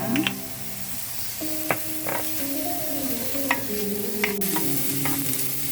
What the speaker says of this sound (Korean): 살살 마늘 기름이 나오기 시작하면 양파를 넣고 볶아줍니다.